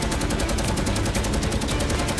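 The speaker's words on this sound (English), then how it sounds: "And he is the first to open fire." A B-17 bomber's cheek machine gun fires a dense, continuous burst of rapid, evenly spaced shots during an air battle against FW-190 fighters. The gunfire is loud and close and fills the whole stretch, with no talking.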